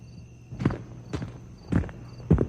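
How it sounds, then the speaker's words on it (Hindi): Four slow, heavy footsteps fall on a road at an unhurried pace, each one a distinct dull thud over a faint steady hum, used as a horror story sound effect with no voices. "रोड पर किसी के चलने की आहट सुनाई देती है"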